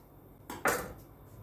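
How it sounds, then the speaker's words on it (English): A knife slices an onion in half on a cutting board, giving two quick crunchy cuts about a fifth of a second apart. The cuts are close and moderately loud against a quiet room, with no talking. "Then, we cut the onion in half."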